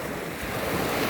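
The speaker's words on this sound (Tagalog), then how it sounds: "Ito ang dagat." A flooded river swollen as wide as a sea, carrying debris, gives a steady, loud rush of churning water mixed with wind buffeting the microphone, with no voices.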